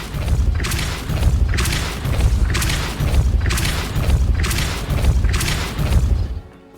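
Depulso spell casts in the video game Hogwarts Legacy, five loud booming blasts with whooshing bursts fired in a steady rhythm, about one per second, with no talk over them.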